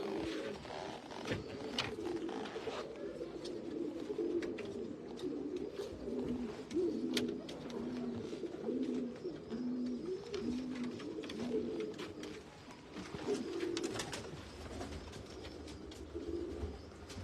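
Pigeons cooing in a breeder's loft in Faisalabad, repeated soft throaty coos rolling in steady phrases close by, with occasional clicks and rustles around them.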